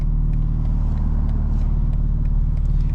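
A 2024 BMW M4 Competition in rear-wheel-drive mode, heard in city driving as a steady, loud low engine and road rumble that holds constant throughout with no clear revving peaks.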